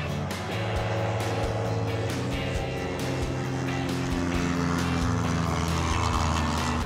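Small propeller airplane engine at full throttle during the takeoff climb, a loud steady droning roar heard from inside the cabin without a break.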